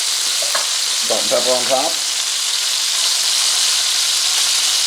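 Pork tenderloin sizzling hard in a pan after being turned, a loud steady hiss close up throughout, with someone briefly speaking over it early on.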